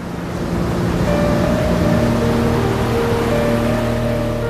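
Powerful slab waves, short and thick, breaking over a reef in Western Australia's northwest: a steady, continuous roar of surf without speech, with a faint tonal engine-like hum running through it.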